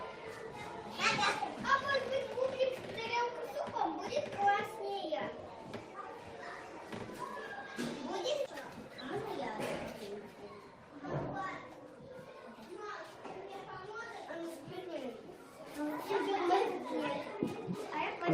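Children play a game together in a kindergarten setting, with lively overlapping kid voices, chatter and occasional thumps throughout, an adult voice talking over it at times.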